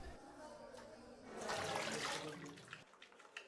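Water runs from a tap for handwashing before a newborn eye examination, a soft hiss that swells in the middle and then cuts off, followed by faint small handling noises.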